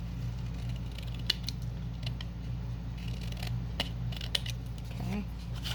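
Scissors trim a playing card being upcycled into a tag, giving a few small, crisp snips over a steady low hum, close and quiet with no talking.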